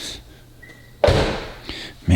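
A 2003 BMW M5 car door shuts with a solid thump, followed by quieter handling noises and another heavy closing thud near the end.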